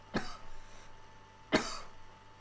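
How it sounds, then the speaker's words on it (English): Two short, dry coughs from one person in a quiet room, close and fairly sharp, spaced over a second apart, with faint steady background hum between them. "Bit of a dry cough."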